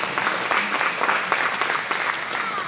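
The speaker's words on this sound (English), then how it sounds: "Yeah, that's a round of applause moment" Congregation at a church service applauding parents for the Awana kids' program, a dense steady clatter of many hands clapping at close range throughout.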